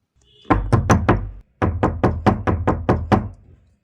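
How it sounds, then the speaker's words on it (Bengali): Fingers knock close up on a door: a quick burst of four raps, a short pause, then a longer run of about seven evenly spaced raps. "আরও কয়েকবার আঙুলের টোকা দিলাম"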